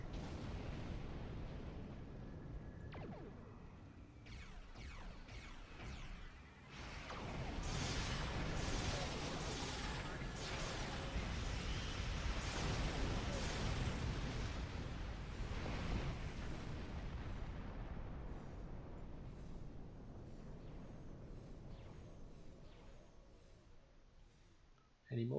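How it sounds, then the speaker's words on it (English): Heavy torpedo strike explosions in the space combat game Star Trek Online, a long rolling barrage of deep booms and blasts that swells and holds loud, with a voice talking over it. "I love a good Space Barbie torpedo strike."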